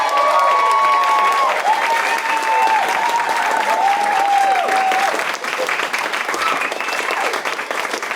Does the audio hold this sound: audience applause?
yes